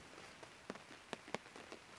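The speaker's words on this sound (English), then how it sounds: "over half of this tent is exposed to the rain" Heavy rain patters on a 3FUL tent pitched high on an exposed campsite under a 3x4 hammock fly, a soft steady hiss broken by a few sharper drops striking the fabric up close.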